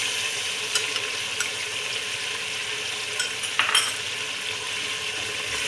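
Chaap gravy with yogurt frying in a pan: a steady close sizzle with a few light clinks and scrapes of stirring scattered through, and no voices.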